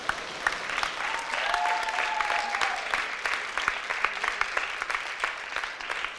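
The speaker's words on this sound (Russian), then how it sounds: "Пока аплодисментами поприветствуем ребят." A theatre audience applauds student performers of a culture and arts academy's drama company, producing steady, dense clapping that rises slightly and holds throughout.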